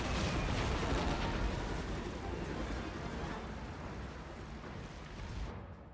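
Heavy bombing in the strategy game Art of War: Red Tides rumbles as a continuous loud wash of overlapping explosions that slowly fades toward the end.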